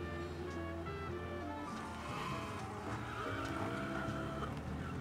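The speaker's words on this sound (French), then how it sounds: "Regardez-moi ça, ce freinage incroyable" A car in the video game Mafia Definitive Edition brakes hard, its tires skidding with a continuous rushing squeal and engine roar. The sound is fairly quiet and steady throughout.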